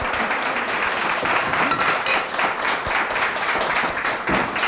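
A studio audience at a Turkish talk show applauds steadily, dense clapping holding at an even level throughout with no pauses.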